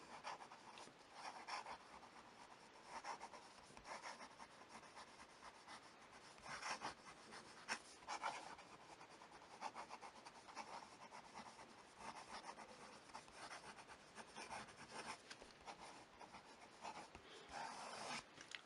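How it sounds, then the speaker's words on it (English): Monteverde Regatta Azure fountain pen writing quickly on paper, a soft, close, continuous scratching that comes in short strokes and bursts, fairly faint and alone. "Some fast writing."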